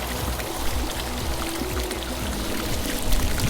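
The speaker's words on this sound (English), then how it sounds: "listen to the sound of the waterfall" A waterfall on a hillside property in Cotton Valley, St Croix, rushes in a steady, continuous wash, heard alone without talk at an even level throughout.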